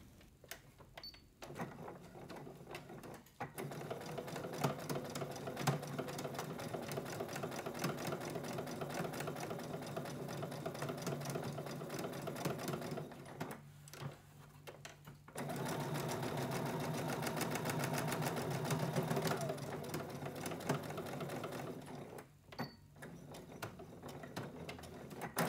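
A sewing machine runs in long steady bursts while stitching a seam on a fabric bag with a wooden frame clasp, its rapid mechanical whir continuing for several seconds, pausing briefly, then resuming at close range with no talk.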